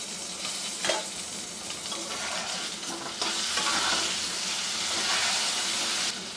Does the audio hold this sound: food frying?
yes